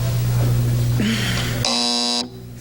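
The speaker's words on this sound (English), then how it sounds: "Afraid to answer with that quick buzzer" A game show contestant buzzer on a syndicated quiz program sounds a single loud, harsh electronic buzz of about half a second, standing out over a steady studio background hum.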